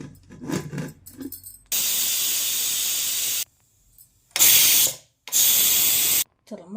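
A pressure cooker holding drumstick soup lets off loud hissing steam in three long, forceful blasts separated by short silences, preceded by a few faint clicks and rattles.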